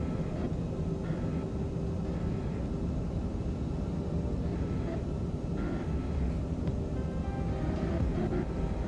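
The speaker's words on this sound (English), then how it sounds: "See how the flap sounds are cutting in and out?" Steady airflow roar from the flaps of an IniBuilds A340-300 airliner in Microsoft Flight Simulator 2024, a broad constant whoosh with brief dips where the flap sound drops in and out.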